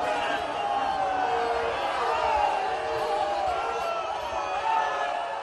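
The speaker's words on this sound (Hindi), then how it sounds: "गोदौलिया पर मौजूद सैकड़ों लोगों ने मोदी मोदी के नारे लगाकर उनका स्वागत किया" A large crowd gathered at Godowlia in Varanasi chanting Modi's name in welcome, a steady roar of many voices with rhythmic shouts, loud and sustained, with a narrator speaking over it.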